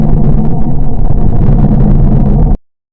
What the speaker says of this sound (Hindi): मरकरी, जिसकी आवाज बहुत डरावनी है,